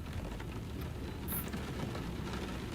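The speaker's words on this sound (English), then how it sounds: "Go out and stand in the rain because you need a shower" Rain in the video game Sheltered 2, a steady dense patter of drops falling on a surface, continuous and fairly loud with no voices.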